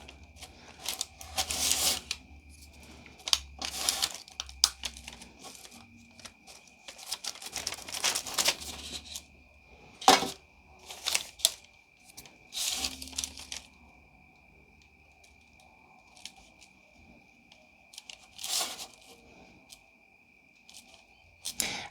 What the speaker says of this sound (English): I'm going to use the scalpel just to go around and cut away the fondant from underneath the image